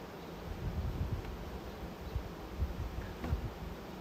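Honeybees swarming over frames during a beehive inspection, with a nectar-filled brood frame pulled from the hive, make a steady, close, low buzzing hum with soft rustling throughout and no talking.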